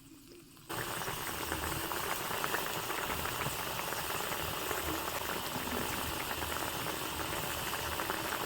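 Fish curry gravy for mach bhuna simmering down in a pot, a dense, continuous bubbling boil that starts abruptly after a brief quieter moment and then holds steady and loud, close by with no talk.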